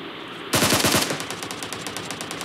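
Gunfire in a mummy treasure video game: a sudden rapid burst of automatic shots followed by a quicker, fainter stuttering rattle of fire, with no voices.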